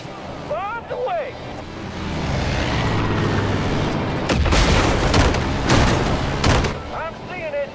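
Bombs dropped from the air explode in the Far Cry 5 video game as deep booms and sharp blasts come in a cluster near the middle, with talking heard before and at the end.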